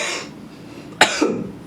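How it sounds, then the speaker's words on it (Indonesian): A man coughs once sharply and close, followed by a softer second cough, against a quiet indoor background. "Iya, batuk."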